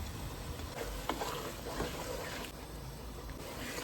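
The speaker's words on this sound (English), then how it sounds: "I'm going to cook the onions until it releases the oil" Onions frying in a pan with salt and hing, a steady low sizzle with faint stirring scrapes, quiet and continuous.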